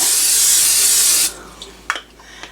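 A spray nozzle hisses steadily onto a glass bowl for about a second, then stops, followed by a few faint clinks and drips in a kitchen sink.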